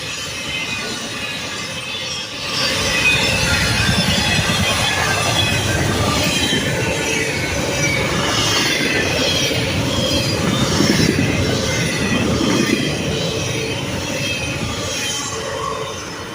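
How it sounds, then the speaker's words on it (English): A train rushes past nearby in North East, Pennsylvania, a loud sustained roar of wheels and rattling cars with a high metallic squeal running through it. "Talk about a train that's flying."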